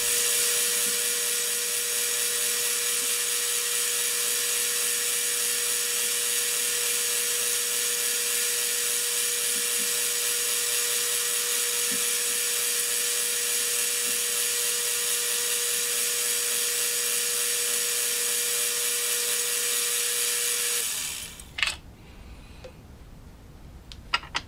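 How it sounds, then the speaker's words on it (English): A slightly dull quarter-inch stub drill bores through metal with a steady, loud, high-pitched whine that holds for about twenty seconds, then stops abruptly, leaving faint clatter. "This 1/4 inch stub drill is actually a little bit dull. It seems to have made a start all right."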